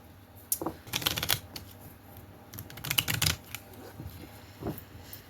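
Tarot cards shuffled by hand in quick riffling bursts, two main flurries with softer flicks between, close and fairly crisp, with no talking.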